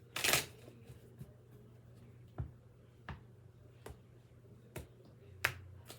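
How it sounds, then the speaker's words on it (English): A deck of cards is shuffled in a quiet room: one sharp riffle burst at the start, followed by several spaced, faint taps and snaps as the cards are handled. "Last shuffle."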